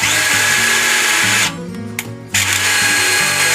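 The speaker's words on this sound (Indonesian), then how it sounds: "terdengar suara agak kasar pada saat saya memindahkannya" Doliz BD637 cordless brushless drill running after its speed switch is changed: a loud, close high-pitched whine that drops out briefly in the middle, then resumes at full speed.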